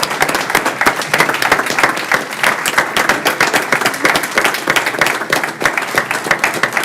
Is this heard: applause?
yes